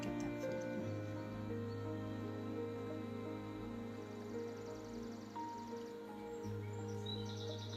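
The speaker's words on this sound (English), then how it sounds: "I hope you like my bird music." Gentle birdsong with chirps and tweets plays softly over a steady tonal background, like a calm recording of birds, with no talking.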